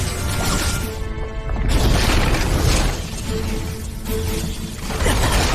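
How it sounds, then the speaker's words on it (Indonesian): A loud, sustained roaring blast from an animated donghua with crashing, rumbling debris that surges and swells over several seconds. "Hingga memunculkan sebuah ledakan yang sangat dahsyat."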